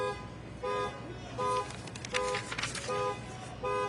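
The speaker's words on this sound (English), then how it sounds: "that horn honk is deliberate" A car horn in a political ad honks in short repeated toots, roughly every three-quarters of a second, with a brief burst of other sound in the middle. The horn is moderately loud and clear against quiet background noise.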